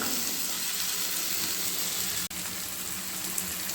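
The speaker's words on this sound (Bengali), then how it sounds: "ভেজে রাখা পটলগুলো দিয়ে ভালোভাবে কষিয়ে নেব" Fried pointed gourd being sautéed in oil in a pan gives a steady, close sizzle and crackle throughout, with one brief gap partway through.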